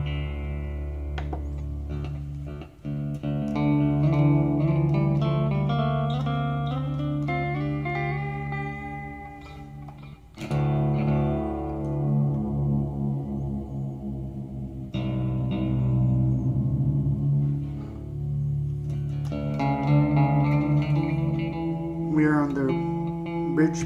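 Clean electric guitar chords and picked notes from a Glarry GST through the clean channel of a PV amp ring out with a spacious reverb tail, strummed in several phrases with no talking.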